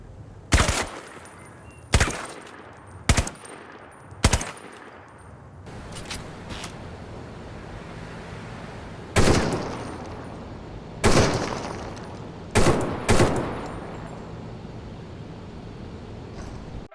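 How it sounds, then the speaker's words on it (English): Gunfire in the VR shooter game Crossfire: several sharp, loud single shots in quick succession, then a stretch of quieter rumble, followed by further clustered bursts of shots with short echoing tails. "Yeah, the guns in Crossfire feel better, they have better recoil, they sound better, the reloads are smoother"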